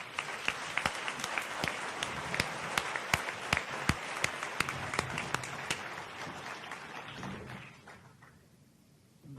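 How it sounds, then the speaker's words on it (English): Indoor audience applause for speakers at a climate change planning talk, a dense steady clatter of many hands with sharp individual claps, fading out over the last couple of seconds. "give all of our four speakers another round of applause"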